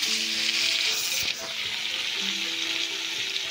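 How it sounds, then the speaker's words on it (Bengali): Fish pieces rubbed with salt and turmeric frying in hot oil in a kadai for a Bengali fish curry, a loud steady sizzle with a few brief clinks and scrapes, no voices. "মাছগুলো একটু হালকা ভেজে তুলে নেব"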